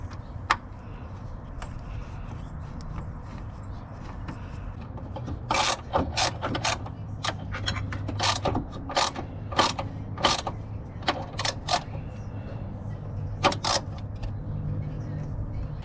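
Allen key tightening a bolt on a boost solenoid mount in a K24 Civic engine bay, producing a close, irregular run of sharp metallic clicks and rasping scrapes.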